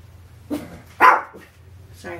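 A dog barks a few times nearby, sharp single woofs spaced apart against a quiet room with a low hum.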